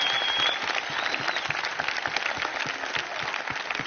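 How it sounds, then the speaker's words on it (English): Crowd applause at a UFC Fight Night weigh-in in London, a steady dense wash of clapping from a large audience, fairly distant and even throughout with no break. "Round of applause for our..."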